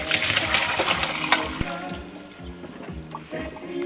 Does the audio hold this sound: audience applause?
no